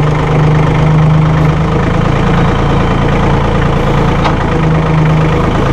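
A Massey Ferguson 1825E hydrostatic compact tractor with a 24 hp engine idles nearby, a steady low diesel chugging with a faint knock, while hydraulic loader whines swell briefly at the start and end.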